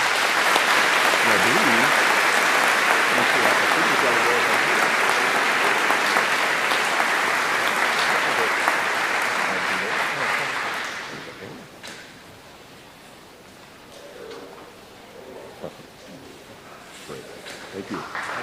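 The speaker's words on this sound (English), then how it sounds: "Round of applause, please" At the Seattle Colleges 2012 convocation, an audience applauds award winners with loud, dense clapping that lasts around eleven seconds, then fades. Quieter talk and stray sounds follow.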